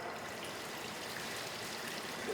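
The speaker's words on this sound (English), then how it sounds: "we can pour off the water" Sieved water poured from a bucket while setting up a Wilfley table for mineral separation, a steady close splashing trickle that runs unbroken for the whole stretch.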